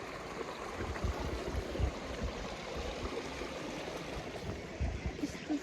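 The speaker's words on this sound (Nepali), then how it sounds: "हेर्नुहोस् खोला यस्तो छ खोला यति धेरै ठुलो चाहिँ छैन" A small, modest-sized river flows with a steady, close rushing and gurgling wash of water, constant throughout with no talk.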